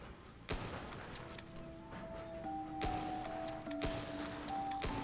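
Sniper rifle shots ring out in a video game as a few faint, sharp cracks spaced a second or so apart, set over a quiet background of soft game tones.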